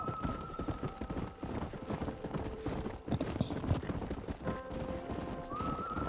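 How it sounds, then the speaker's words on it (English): Horses' hooves clatter in a fast, continuous galloping rhythm in the video game Red Dead Redemption, with a brief whinny and faint tonal background sounds underneath. "There's the horses!"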